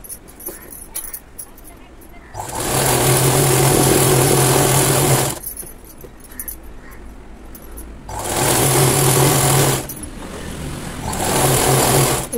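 A sewing machine stitching the bottom of a Punjabi dress runs in three loud steady bursts of several seconds each, separated by quieter pauses with handling noise.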